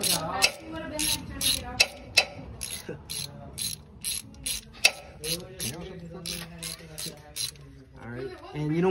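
A ratchet with an 11 socket snugs rod bearing cap bolts on an engine still in the car, giving rapid close clicking bursts in short pulls with pauses between, under some background talk.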